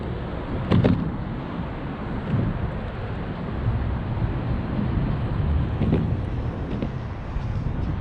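Steady wind buffets a microphone on an open rooftop parking garage, a continuous close rumble with a few stronger gusts and thumps and no speech.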